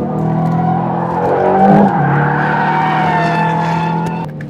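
An Aston Martin Vantage engine revs steadily on a racetrack as the car rides over kerbs through a hairpin, with a brief rougher burst midway; the sound stays loud and close throughout, with no voices.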